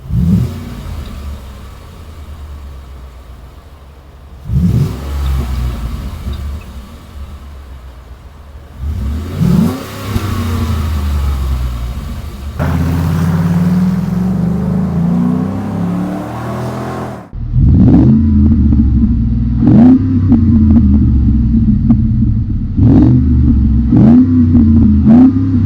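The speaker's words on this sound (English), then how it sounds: "really nice sounding JBA dual exhaust. And then we also did the shorty JBA headers." Truck fitted with JBA dual exhaust and shorty headers accelerating through several gears, deep engine note rising in repeated revving pulls with shifts between them, close and loud, then a rumbling idle with short blips at the end.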